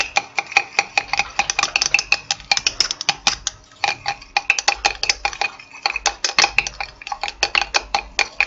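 Soap mixture with dry pearl pigment stirred in a container for a heart-shaped soap with violets, giving rapid, irregular clinking and scraping clicks of a utensil against the container walls, close and steady throughout.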